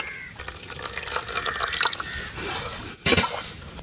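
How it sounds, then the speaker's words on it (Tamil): Water splashes and trickles into a bowl of mixed spice masala for frying dried fish, a close pouring and dripping sound that swells and ends in a short louder splash. "இந்த மாதிரி எல்லா மசாலாவும் மிக்ஸ் பண்ணிவிட்டு தண்ணி சேர்த்துக்கிறாண்ணா"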